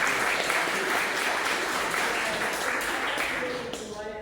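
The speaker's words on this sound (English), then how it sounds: "So let's give our actors a round of applause." An audience at an In the Heat of the Night cast reunion applauds the actors, a dense, even wash of clapping that holds steady and then tapers off near the end.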